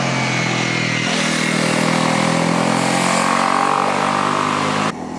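A Honda CL250 motorcycle engine drones loudly and close during a test ride, holding a steady tone with a clear step up in revs partway through before cutting off abruptly near the end.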